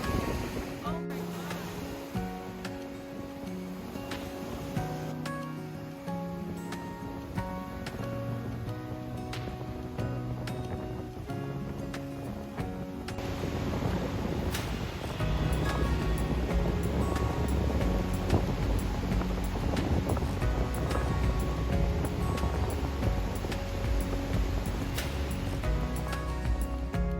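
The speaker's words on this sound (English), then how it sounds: "Look at these waves!" Lake waves break on a cold, windy Upper Peninsula of Michigan shore, a rough ongoing wash with gusty wind buffeting close by, growing louder midway, while voices talk and exclaim over it.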